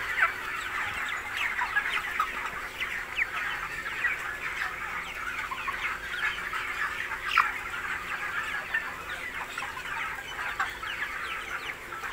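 Broiler chickens in a farm shed keep up a constant chorus of overlapping clucks and soft calls, moderately loud and unbroken, with no voices.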